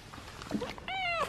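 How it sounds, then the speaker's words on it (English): A cat meows indoors, one drawn-out, rising and falling cry near the end after a few faint small sounds, close and moderately loud. "And this is my cat."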